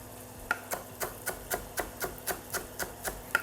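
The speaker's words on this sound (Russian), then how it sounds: "вот так вот петрушечку на сковородке немного поджарю" Parsley frying in oil in a pan, a steady rhythm of soft crackles and taps repeating about three times a second, faint and close, with no talk.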